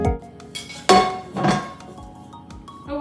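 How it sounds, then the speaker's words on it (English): A blunt knife scraping and clinking around the inside of a metal cake pan holding a baked vanilla cake, with a few sharp metallic knocks and short scrapes, close and fairly loud, no talking. "we're just going to take a non-sharp knife, go around the outside of the pan"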